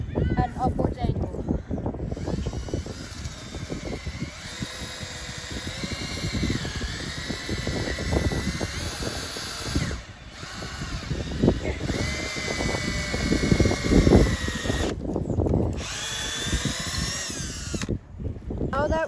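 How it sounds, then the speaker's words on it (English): A drill whines steadily as it bores upward into a maple tree for sap tapping, pitch shifting under load, with brief pauses and someone talking over it. "I'm gonna drill from this root 3 feet above, which is about right here, at an upwards angle."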